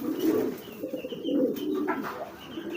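A pigeon coos repeatedly while driving its mate, low throaty rolling calls heard close and fairly clearly against quiet background.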